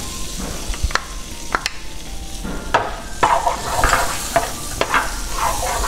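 Shrimp and garlic fry in butter in a pan on the stove, a continuous sizzle broken by repeated sharp clinks and scrapes of a utensil stirring, fairly close.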